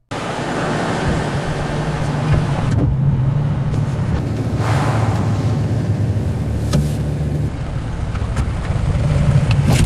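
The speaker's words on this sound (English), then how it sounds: "Suppose I want to create a cinematic scene of a car moving, with shots inspired by an old movie." A car drives through a cinematic scene, its engine and road noise forming a loud, steady rumble with shifting whooshes as it moves, continuous for about ten seconds.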